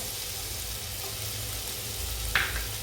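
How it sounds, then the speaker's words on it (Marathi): Green chillies sizzle gently in hot oil with turmeric in a pan on low heat, a steady close frying hiss with a single short clink near the end. "मिरची थोडीशी तेलावरती परतून घ्यायची त्यात घालूया आपण हळद"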